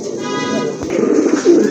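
A pair of homer pigeons gives a short, loud, close-up cooing call with a low, throaty warble lasting under two seconds.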